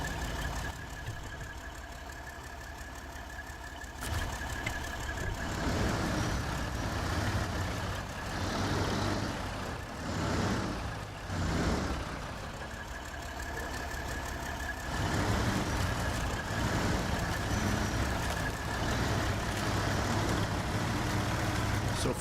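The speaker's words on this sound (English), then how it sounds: "The old Kenworth seems to roll along just fine." Kenworth truck in the game SnowRunner rolling along with a steady low engine drone, rising and falling slightly in loudness with bursts of mechanical rumble, heard close throughout.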